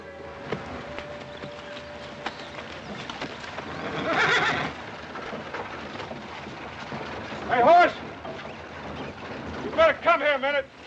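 Horses whinny in short, shrill bursts amid clip-clopping hooves in an old western setting, with several calls toward the end and people talking at times.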